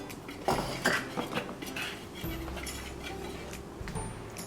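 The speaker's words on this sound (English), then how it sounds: "now you're just going to whisk it all together" Dry flour, baking powder and salt are whisked together in a bowl for vegan biscuits, with close, quick scraping and clinking of the whisk against the bowl, busiest early and continuing steadily throughout.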